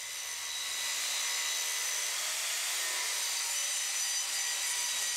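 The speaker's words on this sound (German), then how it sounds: "Dazu spannt er das Werkstück in einen Schraubstock und es kommt wieder der Winkelschleifer zum Einsatz." An angle grinder works a steel axe blade clamped in a vise, giving a steady, loud, high hissing grind that holds constant for several seconds with no talk.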